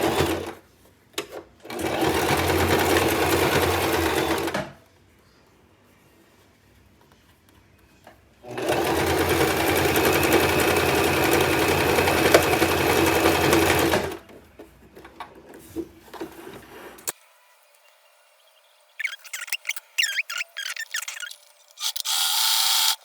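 A sewing machine stitches a scrunchie seam closed in two long, steady, loud runs separated by a pause, followed by a few faint clicks and handling noises.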